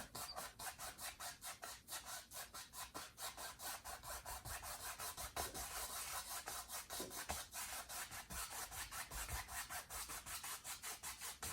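A brush strokes wet oil paint on canvas in a quick steady scrubbing rhythm of soft, close rasping sweeps, faint and continuous with no talking.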